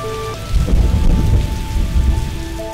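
Steady, heavy rain pours down in a dense broadband hiss, with a low rumble underneath and some faint tonal hum at the start.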